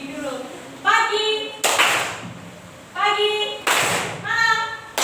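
A class of children claps in short bursts during a rhythmic clapping game, each burst of claps following a spoken call, the pattern repeating twice with voices in between.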